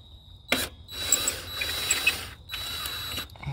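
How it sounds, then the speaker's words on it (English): A cordless screw gun drives a screw into a Jeep XJ headlight bezel, two short whirring bursts with a brief pause between them, close and clear with a faint high whine underneath. "I'm coming back through with my screw gun."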